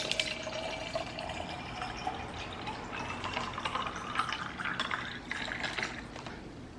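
Ice water poured into a big glass first thing in the morning, a steady liquid trickle with clinking splashes and rising fill tones, fairly close and alone without talk.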